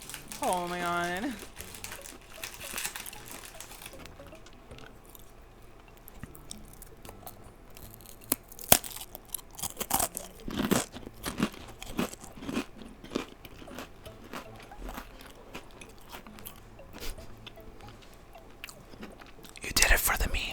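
Close crunching and chewing of a cracker, with irregular crisp bites and mouth noises and a louder burst of crunching near the end, under quiet voices at the start.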